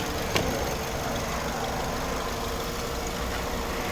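A 2009 Skoda Octavia A5 1.6 MPI petrol engine idles steadily at close range, an even low rumble with one brief click near the start, no voices.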